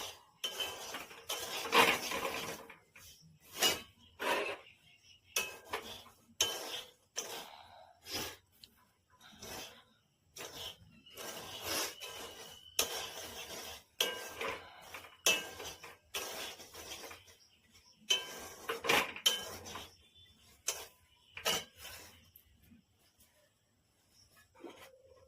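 Semolina upma with sugar is stirred in a pan, giving a long series of irregular scraping and clinking strokes of a spoon against metal, separated by brief quiet gaps, near and moderately loud.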